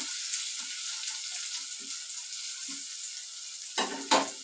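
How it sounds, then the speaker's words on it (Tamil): Onions sautéing in oil for a crab gravy make a soft, steady sizzle with faint scattered stirring taps, ending in two louder scraping stirs, no voices. "நல்லா வதக்கிக்க வேண்டியதான் நல்லா வதங்கணும் வெங்காயம்"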